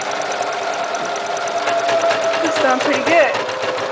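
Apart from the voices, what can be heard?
Kenmore 385-16220 sewing machine stitching an automatic buttonhole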